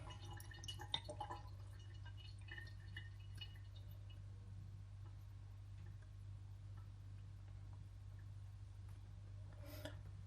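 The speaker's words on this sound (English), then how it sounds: "there's a little bit of water there just coming through, which is from above" Water drips through from above behind a fitting during a home plumbing repair, giving a few faint, irregular ticks over a steady low hum with no talk.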